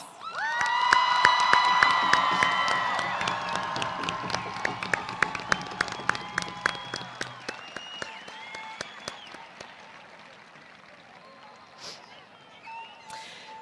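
A crowd at a 2022 graduation ceremony breaks into loud applause and cheering for the new graduates, swelling early then thinning into scattered claps and whoops.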